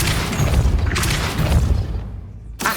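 A Depulso spell in Hogwarts Legacy bursts with a loud, close whooshing blast and rumbling impact, followed by a second sharp hit near the end.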